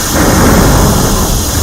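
A thunderstorm sound effect plays during a live religious performance in Tulsiyahi village, Saharsa district: a loud, continuous rumbling roar of thunder and rain with no voices.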